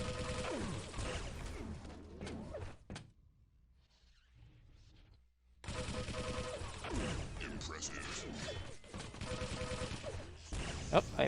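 Rapid gunfire from Quake 3 Arena during a one-on-one tourney match, with dense bursts of shots, a short quiet lull, then another long loud volley.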